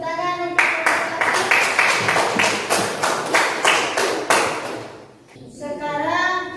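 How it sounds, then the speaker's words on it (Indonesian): A small group of schoolchildren in a classroom claps in rhythmic unison for a group's work, about ten even beats, then trails off as a voice rises at the end. "Tepuk tangan untuk kelompok"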